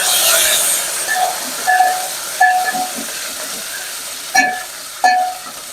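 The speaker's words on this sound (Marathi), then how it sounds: "हे सगळा लसण आपण याच्यात टाकून घेऊ। आता आपला लसण चांगला गोल्डन होऊन द्यायचा।" Garlic frying in hot oil in a pan, heading toward golden, gives a steady loud sizzling hiss with a few brief louder crackles and spits over about six seconds.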